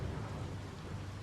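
Rain pours steadily with low rumbling thunder in the video game Biomutant, a dense, constant wash of sound with nothing breaking through.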